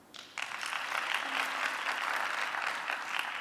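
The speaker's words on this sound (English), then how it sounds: "can we just give them a little round of applause?" Audience applause for visiting speakers at a science talk, a steady round of clapping from a crowd that starts abruptly and holds evenly, somewhat distant in a hall.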